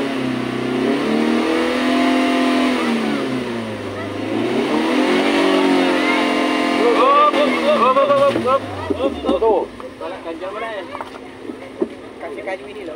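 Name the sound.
stuck car engine revving, Toyota Avanza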